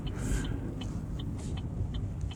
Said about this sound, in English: got a couple cars going through